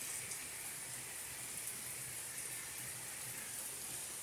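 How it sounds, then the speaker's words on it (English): Heavy pouring rain falls in a steady, dense hiss with no breaks, soft and even throughout, with no voices over it. "Yeah, it's pouring rain."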